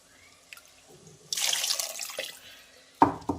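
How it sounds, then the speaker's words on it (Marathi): Water poured from a vessel into a mixer jar holding leftover masala, a burst of splashing pour lasting about a second, then a short second splash after scattered small clinks, close and with no speech. "तर यामध्ये आपण गरजेनुसार पाणी घालून घेऊया।"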